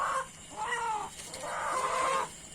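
Chickens cluck in two drawn-out bursts close by, with a short pause between, over a quiet background.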